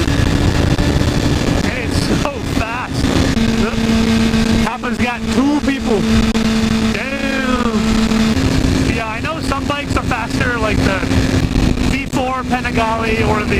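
A motorcycle rides along a road at night in winter, its engine droning steadily and shifting pitch as it accelerates, while someone talks almost continuously over the ride.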